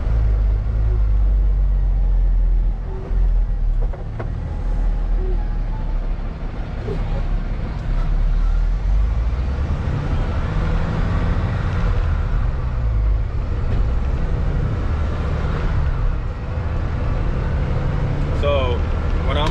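A heavy truck governed near 63 mph cruises along a highway, a constant low engine and road rumble heard from inside the cab while the driver keeps talking throughout.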